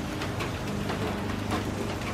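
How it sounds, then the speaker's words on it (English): Steady rain falls outdoors as a dense, even hiss with no clear individual drops, continuous and fairly close throughout. "That's rain right there."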